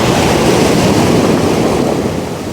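Strong, rough sea waves break near the shore where small fishing boats go out, making a loud, continuous roar and wash with wind buffeting the microphone throughout.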